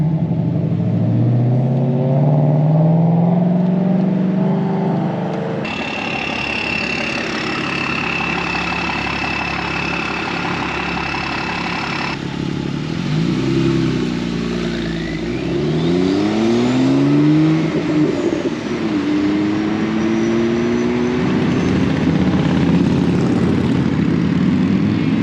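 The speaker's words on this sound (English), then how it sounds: "it can show you how loud other vehicles on the road actually are" Loud road traffic heard from an electric motorcycle while riding, with engine and propeller-like drone, rising and falling pass-by whooshes near the middle, and a steady roar throughout.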